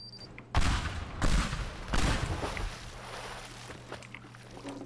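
Bombs detonate against supports in a video game, a series of three or four heavy booming blasts a second or so apart, each with a rumbling tail, fairly near and alone without talk.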